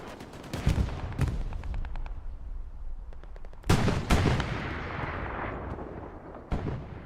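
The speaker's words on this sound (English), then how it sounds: "There's smoke artillery falling down here" Smoke artillery shells landing in the game Hell Let Loose, several heavy booming impacts with long rumbling tails, spaced a few seconds apart, loud and fairly near with lighter pops between.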